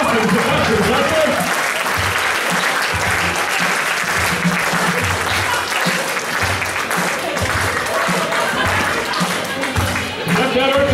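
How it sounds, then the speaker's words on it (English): Loud, sustained audience applause at a tavern hypnosis show, with crowd voices and chatter mixed into the clapping throughout. "Give them some applause."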